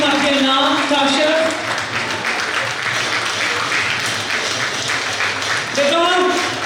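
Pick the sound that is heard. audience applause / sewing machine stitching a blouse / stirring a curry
audience applause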